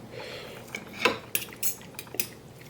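A metal fork and cutlery clink and scrape against a plate while steak is sliced, close-up, with several bright, irregular taps and scrapes over a soft background and nobody speaking.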